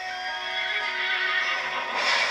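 A horse neighs as a storybook sound effect, a loud, close whinny that runs for about two seconds and stands alone without any talk.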